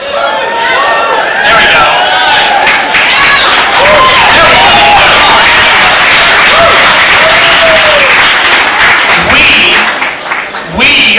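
A crowd at an outdoor July 4 Tea Party rally cheers and applauds loudly, with sustained clapping, whoops and excited voices over a continuous roar, and someone speaks briefly as it dies down.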